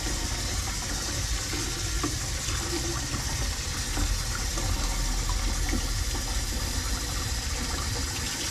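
Water runs and gushes steadily over king salmon eggs as they are rinsed of blood and broken shells, a continuous close splashing that lasts throughout with no voices.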